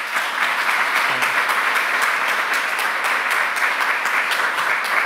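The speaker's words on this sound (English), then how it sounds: "please give a warm round of applause to Benoit" Warm audience applause greets a presenter at a Python programming talk, a dense, steady wash of many hands clapping at an even level throughout, with no voices over it.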